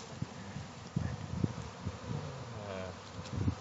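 Honeybees on hiving day, being moved into a new hive, buzzing steadily and close, with soft rustling thumps and bumps mixed in.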